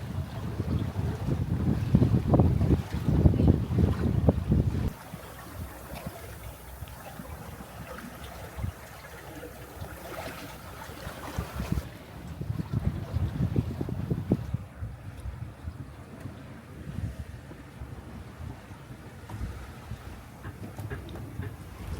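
A 50-ton sailboat beats upwind about 60 degrees off the wind, with steady wind rush, gusty buffeting on the microphone and low hull and water noise that rises and falls across the stretch. No voices are heard.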